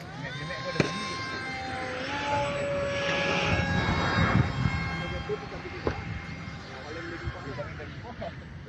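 A homemade DIY jet engine runs with a steady whine and roar under outdoor background noise, broken by a few sharp pops.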